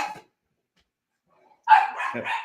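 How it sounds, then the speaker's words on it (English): A dog barks close by: a quick yip, a short pause, then a louder burst of several sharp barks, with no other sounds around it. "My dog's going off."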